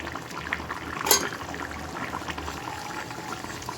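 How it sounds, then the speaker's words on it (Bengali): Curry gravy bubbling at a steady simmer in a cooking pot, a soft continuous burble close by with one brief clink partway through, no voices. "তো দেখো ঝোলটা ফুটছে।"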